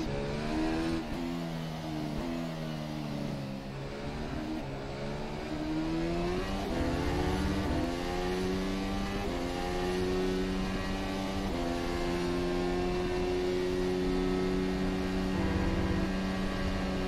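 A Zakspeed formula race car engine in rFactor 2 screams around Silverstone with DRS open and qualifying boost engaged, holding a loud, steady high-revving whine that climbs through the gears without pause.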